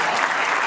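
A dense wash of audience clapping fills a short burst, steady and loud, at a Christian radio event where a singer's marriage is being celebrated.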